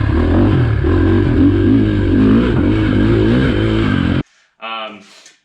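A KTM 500EXC dirt bike fitted with an FMF exhaust revs loud and close, its engine wringing out in a steady rising drone that cuts off abruptly near the end, followed by a brief voice.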